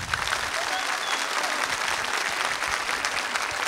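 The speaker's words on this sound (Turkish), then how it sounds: "Güzel orkestrayı bir alkışlarsanız." A studio audience on a 2007 Turkish TV variety show applauds the orchestra with continuous, even clapping that fills the room at moderate volume.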